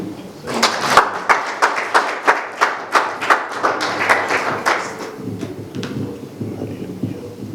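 A church congregation claps in steady, rhythmic unison, with loud sharp claps at close range for about five seconds before the clapping thins and fades into murmuring voices.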